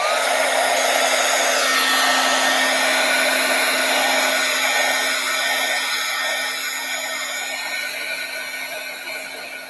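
A heat tool melts embossing powder on a crafted leaf design, giving a loud, steady blowing whir with a faint hum that runs through the whole stretch and eases off slightly toward the end.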